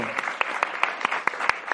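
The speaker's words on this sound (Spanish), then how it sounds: "les pido a todos ustedes un fuerte aplauso" Applause rises from the audience at a live podcast show on video games, with rapid claps continuing evenly through the brief moment.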